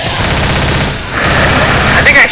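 Rapid gunfire in Left 4 Dead, a zombie shooter, rattles on loudly and continuously in close bursts, with a voice briefly audible underneath.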